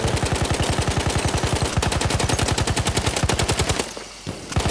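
Sustained machine-gun fire in Battlefield 1 on the Sinai Desert map, a loud, close, rapid even rattle lasting nearly four seconds before cutting off, followed by a brief lull and a few more shots.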